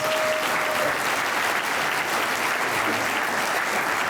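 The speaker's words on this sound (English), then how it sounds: "can we give a round of applause for that right there?" A commencement dinner crowd at the University of Dubuque breaks into loud, full applause, a dense and continuous roar of clapping lasting the whole four seconds with no voices rising above it.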